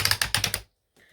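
Planner discs being pulled apart in a Happy Planner: a quick burst of about six loud, close snapping clicks, then near silence and a faint rustle.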